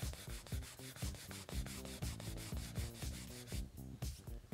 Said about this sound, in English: And just buff the surface with a rag here.